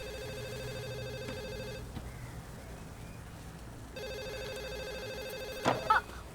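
A telephone rings in repeated electronic bursts, two rings separated by a quiet pause, fairly faint indoors, followed by a brief clatter.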